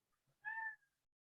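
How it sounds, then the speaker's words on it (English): A house cat gives a single clear, fairly loud meow close by, with near silence around it. "That is my cat."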